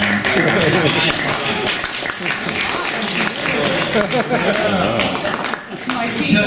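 Audience applause at a radio club holiday social and potluck, a broad wash of clapping from a seated crowd that swells and holds steady, mixed with chatter and scattered laughter.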